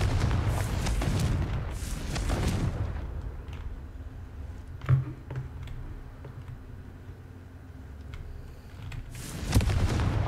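Confringo fire spell from Hogwarts Legacy bursting in a muffled boom, followed moments later by another dull blast, over low rumbling ambience.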